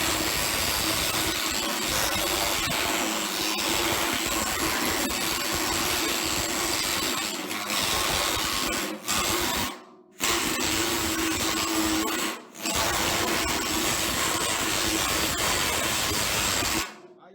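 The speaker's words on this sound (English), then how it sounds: "just planish it out again with the hammer" An OX planishing hammer smooths sheet metal with a loud, steady, dense pneumatic buzz of rapid blows that runs continuously, cutting out briefly three times before resuming.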